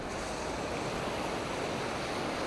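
Ocean surf on the beach at Shrivardhan roars as a steady, broad wash of breaking waves, continuous and fairly loud, with wind noise blended in.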